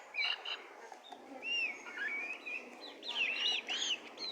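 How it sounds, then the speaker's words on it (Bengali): Native Bangladeshi desi chickens about two months old, feeding, give repeated short chirps and peeping calls, close and moderately loud, over steady background noise with no talking. "এগুলো হচ্ছে খাঁটি দেশি মুরগি।"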